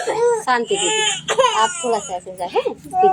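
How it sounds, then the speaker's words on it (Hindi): An infant cries loudly and close by in a village setting near a water handpump, with wailing, whimpering bursts mixed with adult speech in Hindi. "बच्चा रो रहा है आपका।"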